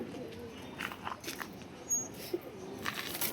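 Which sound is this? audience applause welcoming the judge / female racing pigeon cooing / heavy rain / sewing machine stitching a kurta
female racing pigeon cooing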